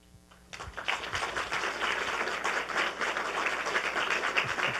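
An audience at a New Hampshire political campaign event breaks into applause, starting after a brief quiet moment and building into a steady, dense wash of clapping that continues to the end.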